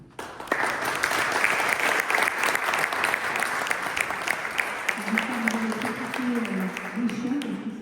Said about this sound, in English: Et on vous remercie pour l'applaudir.